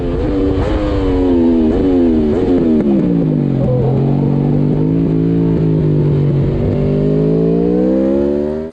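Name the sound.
Aprilia RSV4 1100 motorcycle engine braking, rear sliding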